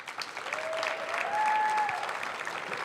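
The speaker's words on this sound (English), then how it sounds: "Please, round of applause." An audience applauds steadily at a chess hall of fame induction event, a dense wash of clapping that swells slightly midway, with a faint whistle-like tone rising over it.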